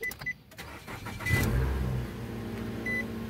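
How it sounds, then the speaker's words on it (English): A 2010 Nissan Altima engine cranks and catches, then settles into a steady idle. A short electronic beep sounds early and again near the end. No one speaks. "2010 Nissan Altima, running again."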